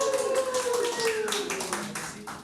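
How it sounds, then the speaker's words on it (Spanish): A small church congregation claps, a light scattered patter running under a voice or sung tone that slides downward, moderately quiet throughout. "un aplauso para Rebe"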